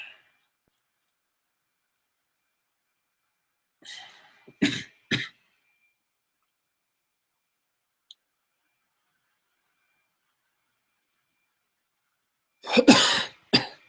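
A person coughs in short bursts, a pair of coughs followed by a longer, harsher coughing fit after quiet gaps.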